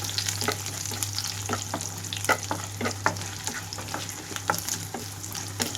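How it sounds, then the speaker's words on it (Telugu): Tempering seeds, crushed garlic and curry leaves fry in hot oil for a chukkakura leafy-greens curry, giving a steady close sizzle with scattered sharp pops and crackles. "తాలింపు గింజలు మొత్తం వేసేసుకుంటున్నాను. కొద్దిగా నలకొట్టిన వెల్లుల్లి రెమ్మలు కూడా వేస్తున్నాను."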